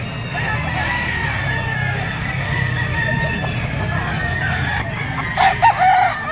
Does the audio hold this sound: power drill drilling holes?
no